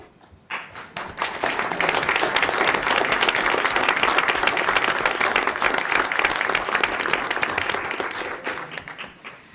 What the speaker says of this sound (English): I'd also like to extend a round of applause for our students' family members joining us today